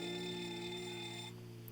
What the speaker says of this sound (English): Then go up here and disable the alarm.